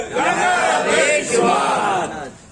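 A large crowd at a majlis for Imam Hussain loudly chants a religious slogan in unison, a sustained roar of many voices that swells and fades over a couple of seconds.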